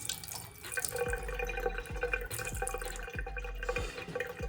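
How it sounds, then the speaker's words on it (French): Water poured from a small glass to rinse hair, a quiet continuous trickle and splash with a few soft repeated pours and drips, close by with no speech. "Je vais du coup rincer avec l'aide d'un petit verre."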